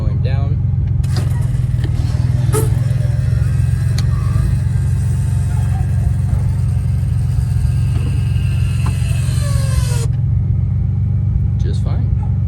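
A 1999-2004 Ford Mustang convertible top motor strains while lowering the top, its failing whine running steadily for about nine seconds over a constant deep engine rumble, close and loud.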